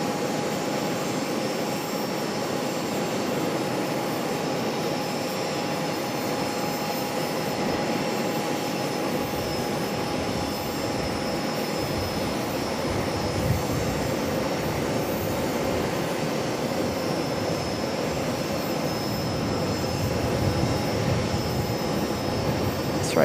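A 30-year-old CRJ regional jet arriving from Sarasota at Charlotte makes a steady jet rumble and whine, distant at first and growing fuller and rougher as it nears, with a faint tonal hum above.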